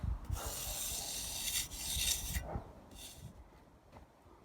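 A trowel scrapes and rubs across render on a wood burning pizza oven, polishing the surface in close, continuous gritty strokes that swell and fade with each pass.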